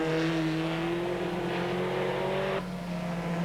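TVR Tuscan Challenge race cars from 1995 accelerate hard out of Knickerbrook corner, a loud sustained engine roar with rising harmonic pitch that drops and shifts abruptly as one car passes and another takes over, steady throughout with no talking.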